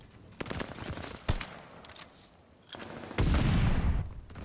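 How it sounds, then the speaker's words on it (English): Rapid bursts of submachine gun fire in a Call of Duty Vanguard gunfight, sharp clustered shots followed by a louder sustained volley, with no talk over it. "that was an SMG gunfight and had an AR out"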